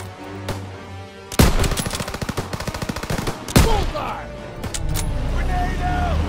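Loud bursts of rapid machine-gun fire and single gunshots from a Call of Duty WW2 campaign battle, with shouted voices over the fighting and a vehicle rumbling underneath.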